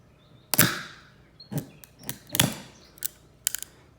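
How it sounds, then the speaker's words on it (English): A screwdriver pries at a plastic graded trading card slab, making a series of sharp cracks and clicks that come in irregular bursts. The sound is close and nobody talks. "I'm gonna put our screwdriver in there, usually right behind the label."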